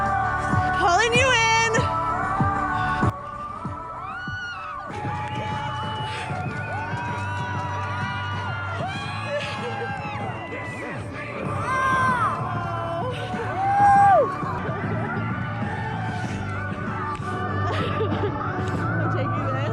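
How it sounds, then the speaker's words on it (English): A marathon finish-line crowd screams, whoops and cheers loudly and continuously, with shrill individual shouts and children's voices rising out of the roar, close and enveloping. "you can hear everybody screaming, pulling you in"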